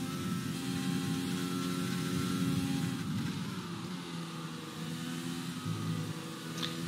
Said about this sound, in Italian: Sentiamo il motore Mercedes.